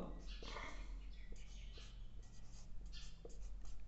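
Faint, repeated scratchy strokes of a pen or marker writing come in short bursts against a quiet room.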